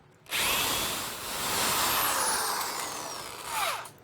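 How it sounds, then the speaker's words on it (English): A power drill whines steadily at close range for several seconds, its pitch shifting as it bites in, then winding down at the end. "Just drill it."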